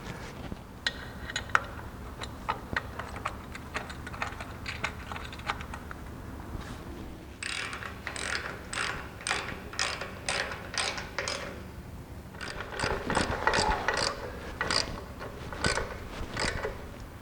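Ratchet clicking in bursts, tightening a bolt fitted from underneath on a grounded chassis for a 1955-1959 Chevy, with a rapid mechanical ratcheting series that pauses briefly and then resumes, close and distinct with no talk.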